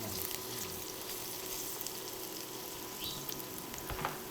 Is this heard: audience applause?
no